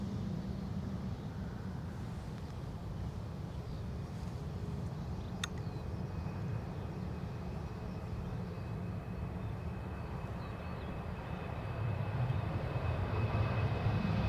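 A TAP Embraer jet at Dublin Airport makes a continuous, broad engine roar at a distance. The rumble holds steady and swells louder toward the end.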